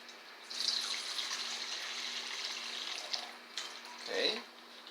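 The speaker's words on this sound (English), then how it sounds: "So first of all, I pour warm water" Warm water pours into a bowl to make dough for baked Venezuelan arepas. A soft, continuous splashing stream runs for a few seconds and then tapers into a final gurgle, fairly quiet and close.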